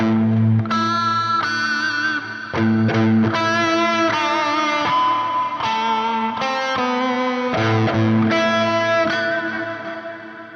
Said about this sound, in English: Oh, this guy has a delay with a reverb.